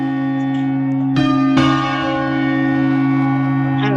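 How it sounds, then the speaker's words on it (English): Quarter bells in a realistic bell tower game ring out, with sustained tones humming before two sharp strikes land in quick succession and decay slowly into a long resonant ring. "Let me get the quarter bells down."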